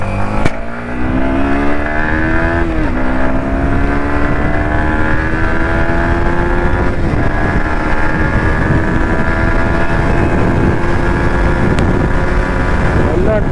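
Yamaha MT-15 motorcycle being ridden, its engine note rising and falling through gear changes, loud and continuous alongside heavy wind rush throughout.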